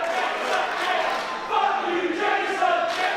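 A wrestling crowd of CPW fans roars and cheers at a live event, a dense, steady wall of voices that swells slightly in the second half.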